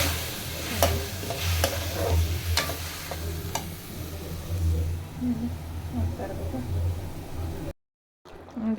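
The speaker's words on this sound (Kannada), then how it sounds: "ಇವಾಗ ಮೇಲೆ ಕಾಯಿ ತುರಿ ಹಾಕಿ ಮಿಕ್ಸ್ ಮಾಡ್ತಾಯಿದ್ದೀನಿ" A spatula scrapes a pan at a steady pace, about one stroke each second, while bitter gourd stir-fry with grated coconut gets mixed. A soft sizzle runs underneath and drops out briefly near the end.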